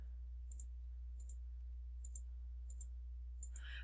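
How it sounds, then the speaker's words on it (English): Computer mouse clicks while squares are selected on a page layout, five or six sharp, quiet double clicks spaced about every 0.7 seconds over a low steady hum. "So I'm going to click and then hold down my Shift key and click every other square."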